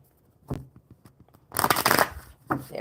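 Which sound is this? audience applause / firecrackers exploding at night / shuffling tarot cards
shuffling tarot cards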